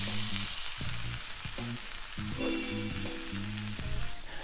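A steak searing in a sauté pan after being flipped, with a constant bright, hissing sizzle held close and even throughout, joined by a soft tonal background.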